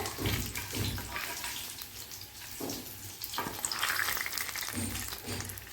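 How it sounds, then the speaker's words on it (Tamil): Curry leaves and dried red chillies crackle in hot tempering oil for paruppu rasam, a close, fairly quiet sizzle with bursts of popping and spattering throughout. "அடுத்து ஒரு ரெண்டு கொத்து கருவேப்பிலை இந்த ரசத்துக்கு கொஞ்சம் இந்த தாளிப்பை"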